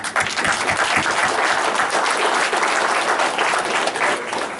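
A crowd applauds steadily and loudly throughout, dense clapping with no break.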